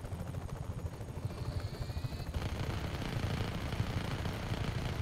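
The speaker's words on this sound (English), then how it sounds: "let's try and keep this heli as long as we can" A helicopter in the video game Just Cause 3 flies with a steady, close rotor thump and engine whine, continuous and fairly loud throughout, with no voices.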